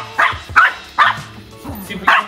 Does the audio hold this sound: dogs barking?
yes